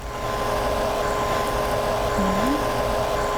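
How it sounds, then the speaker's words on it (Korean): A hair dryer blows hot air onto a rolled fringe with a steady, loud whirring roar throughout, close by, with a brief faint tonal sweep partway through. "이렇게 말고 드라이기를 이용해서 열을 줍니다."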